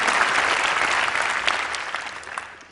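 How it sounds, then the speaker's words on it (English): Audience applause at a public health talk, a dense steady wash of many hands clapping that stays loud throughout and tapers slightly toward the end. "Yes, clap for that."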